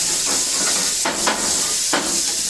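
Shrimp sizzle loudly in a hot pan as part of a steak and shrimp meal, a continuous bright hiss with a few sharper bursts as pieces are flipped, close and with no voices.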